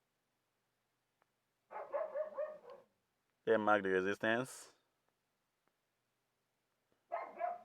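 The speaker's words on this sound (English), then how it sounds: "Sorry, please, that's my dog." A pet dog gives a short burst of loud, close barking indoors, falling between stretches of someone speaking.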